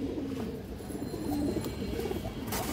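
A fine, old pure-bred pigeon with a silver-tinged head coos softly nearby, its low murmuring calls rolling on continuously against a light background hiss.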